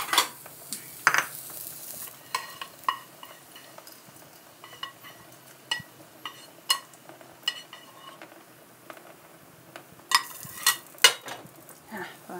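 Garlic frying in a pan for a Thai soup, with a soft sizzle under intermittent clinks and scrapes of a utensil against the pan and dishes, close and moderately loud.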